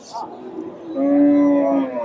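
A two-toothed cow at a Bogura cattle market gives one drawn-out, close moo, preceded by brief low market murmur.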